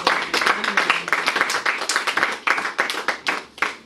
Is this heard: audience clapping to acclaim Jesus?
yes